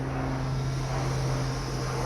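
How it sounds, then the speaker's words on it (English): Airplane passes overhead as a steady droning hum with a strong low tone, heard continuously at moderate loudness with no speech. "Once this plane goes by and it gets quiet"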